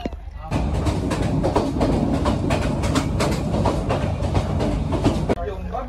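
A Vietnamese Thong Nhat passenger train rolls along the tracks with a loud, steady rumble and rhythmic clickety-clack of wheels over rail joints, heard from inside the carriage.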